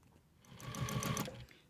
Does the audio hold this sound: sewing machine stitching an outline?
yes